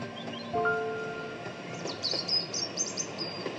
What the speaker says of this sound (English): The branch train crosses the road bridge on the approach to Powerstock station.